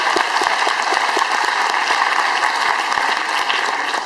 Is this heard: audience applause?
yes